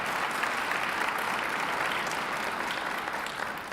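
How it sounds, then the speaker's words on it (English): Steady applause from an audience at a fall kickoff lunch gathering, a dense even wash of many hands clapping that holds at a constant level throughout. "That deserves an applause."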